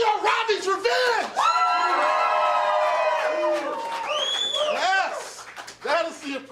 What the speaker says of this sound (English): That is the appropriate applause when you do not have to pay or tip for a dance like that